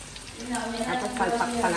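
Chicken cooking in a pan, sizzling and frying steadily at close range over a short stretch, with voices faintly underneath.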